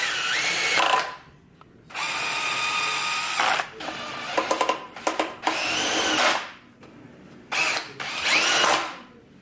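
A power drill runs in several bursts, driving screws back into the side of a KitchenAid stand mixer housing. Long whirs alternate with short stuttering pulses and brief pauses, close and clear, with no talk.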